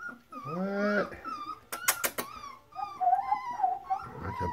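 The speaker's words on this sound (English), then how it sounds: "That's a big yawn" An Airedale Terrier puppy makes a drawn-out yawning whine that rises and falls, close and alone, followed by a few short squeaky yips and a softer whimpering tail.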